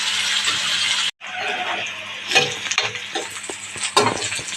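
Onion pieces fry in oil for an ivy gourd curry, giving a steady close sizzle with scattered crackles and stirring clatter, broken by a brief gap of near silence.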